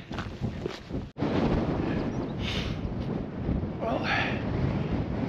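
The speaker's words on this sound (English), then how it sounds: "It's quite a cold wind blowing up here." Cold wind buffeting a microphone on a hilltop in the Peak District, a steady loud roaring rush that barely lets up across the whole stretch.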